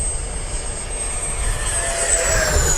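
An FMS Viper 70mm electric ducted-fan RC jet flies past with a steady high-pitched whine and airy roar, its pitch gliding slightly as it passes at moderate distance.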